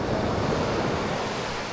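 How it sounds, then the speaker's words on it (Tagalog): Strong ocean waves roll onto Buktot Beach in Oriental Mindoro at night, a loud continuous roar of surf mixed with heavy wind buffeting the microphone, with no voices heard. "Agay, ang lakas ng alon."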